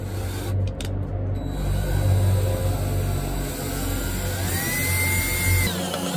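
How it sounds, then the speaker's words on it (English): A drill with a 1-inch bit works slowly through a plastic container, producing a steady loud grinding whir with rubbing scrapes and a rising whine toward the end. "I've got a 1-inch bit on here. I'm just going to go slow because it's plastic"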